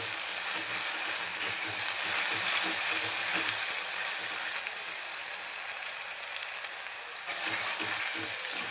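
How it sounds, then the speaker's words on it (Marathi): Onion with ginger, garlic and coriander paste fries in hot oil, a dense steady sizzle with faint rattling stirs, briefly dipping then rising again. "कांदा छानपैकी झाल्यानंतर यामध्ये आपण आता अद्रक, लसूण आणि कोथिंबीरची पेस्ट टाकूया."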